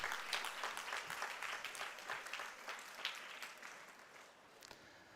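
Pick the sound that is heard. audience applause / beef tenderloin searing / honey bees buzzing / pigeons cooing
audience applause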